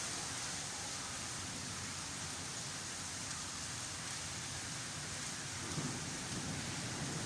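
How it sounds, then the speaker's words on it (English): Steady heavy rain pours throughout a thunderstorm in Santa Ponsa, with low thunder rumbling beneath the broadband hiss and swelling slightly near the end. "Thunder again."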